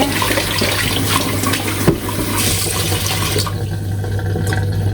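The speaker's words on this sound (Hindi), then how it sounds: "तो मैं ज़रा खुला पानी डाल के" Kitchen tap water running steadily into a sink while raw meat is washed, a continuous close splashing rush with a brief knock partway through, no talk.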